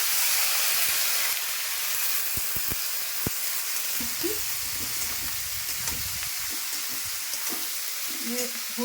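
Bitter gourd and potato hit a hot wok, with a strong hissing sizzle that settles into a steady crackle, and spatula clacks and scrapes as the pieces are stirred.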